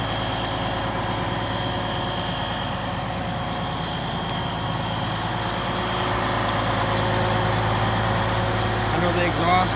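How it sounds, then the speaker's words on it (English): A Case 2870 tractor engine idles smoothly with a steady, deep rumble, getting slightly louder toward the end, with voices in the background. "That is a nice sounding motor. Just really smooth."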